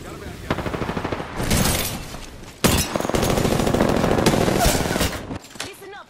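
Rapid automatic gunfire in a PS4 shooter game, bursts of shots crackling loudly and nearly continuously under intermittent speech.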